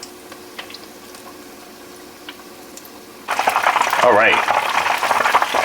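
Battered Southern fried chicken breast frying in oil gives a soft background bubbling that jumps to a loud, close crackling sizzle about halfway through, with someone speaking briefly at the start.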